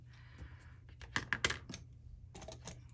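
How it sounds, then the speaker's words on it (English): Scissors or a blade cutting paper along a score line while making a folio, a few quick close snips and crisp paper rustles, fairly quiet with no talk. "Okay, we're going to cut that away."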